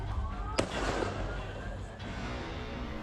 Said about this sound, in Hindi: आतंकी गोलियां बरसा रहे थे।